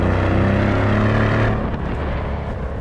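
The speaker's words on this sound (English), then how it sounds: "the V8 engine noise" A Mercedes-Benz CL63 AMG V8 roars loud and close under hard acceleration, a steady rising engine note that drops in pitch and intensity midway as the car eases off.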